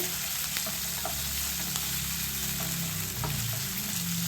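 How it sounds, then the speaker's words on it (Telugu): Onions and tomato puree fry in a hot pan for an okra masala gravy curry, giving a steady, close, continuous sizzle with faint stirring scrapes throughout and no talking. "ఉల్లిపాయ ముక్కలు కొంచెం వే వేగిన తర్వాత ఇందులో టమాటా ప్యూరీని వేసుకున్నాండి"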